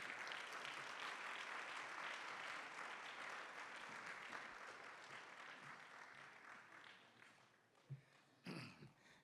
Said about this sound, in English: Ladies and gentlemen, warm round of applause for a beacon and a tenacious industrial leader, Mr. Vivian Reddy